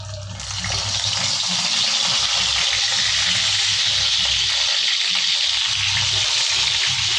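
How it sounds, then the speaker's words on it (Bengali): Eggplant slices fry in hot oil in a wok, giving a steady, loud, broad sizzle that swells in the first second and then holds evenly, with no talking. "এবার আমি বেগুন সুন্দরী বানাবার জন্য বেগুনগুলো ভেজে নেব"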